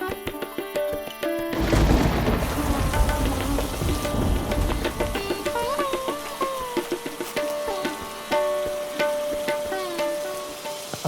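Rain pours steadily with occasional rumbling thunder on a cartoon soundtrack, loud and continuous, mixed with music-like tonal lines and faint voices.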